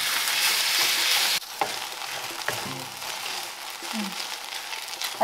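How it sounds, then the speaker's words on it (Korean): Pad thai noodles with shrimp stir-fried with sauce in a pan, a loud hiss that drops suddenly and then continues as a lighter crackling sizzle with scraping and tossing sounds. "이제 마지막으로 소스를 넣고 볶아줍니다"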